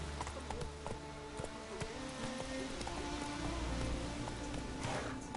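Steady clip-clop of horse hooves in The Witcher 3, mixed with a constant patter of rain, moderately loud and continuous.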